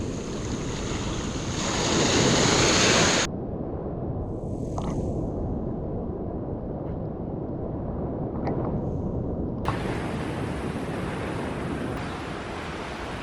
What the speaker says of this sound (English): I had to move because the waves were hitting really hard